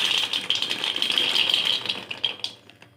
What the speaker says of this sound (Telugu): ఒక ప్యాన్ పెట్టిన దీంట్లో పల్లీలు యాడ్ చేయాలి